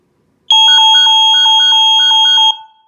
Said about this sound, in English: The alarm will sound in 10 seconds. so we'll let it go off, and you can hear how loud it is.